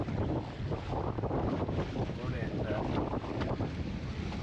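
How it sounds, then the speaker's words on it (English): Wind blows hard around a fishing boat twenty miles offshore, a constant gusty roar buffeting the microphone with sea and hull noise beneath, loud and continuous throughout. "Windy."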